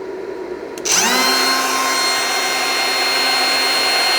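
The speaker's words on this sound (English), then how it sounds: "Now here it is plugged into a DeWalt cordless router." A DeWalt cordless router used as a CNC spindle switches on with a click and spins up to a steady, loud, high-pitched whine that holds constant, with no voices.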